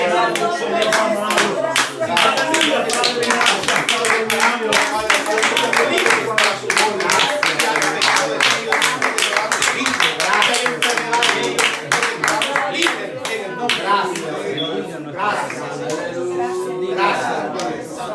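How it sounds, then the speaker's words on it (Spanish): A church congregation claps hands together in steady, rhythmic unison during lively worship, the crisp claps sustained for the whole stretch with voices singing and talking underneath. "Denle ofrenda de palmas al Señor."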